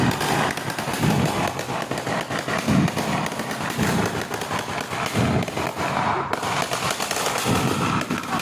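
Firecrackers bursting outdoors during a Karthigai Deepam festival night, a dense crackling barrage with repeated heavier thumps, loud and continuous throughout.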